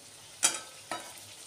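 Cashew, ginger and poppy seed paste frying in oil in a pan for a vegetarian paneer dish, with a steady sizzle and two distinct stirring scrapes about half a second apart.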